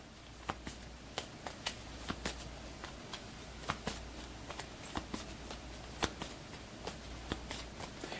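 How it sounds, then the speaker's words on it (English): Goblin cards from the Tiny Epic Dungeons board game are shuffled by hand, a quiet run of crisp riffling snaps and taps in an irregular rhythm, close but faint, with no speech. "I'm just shuffling up the goblins."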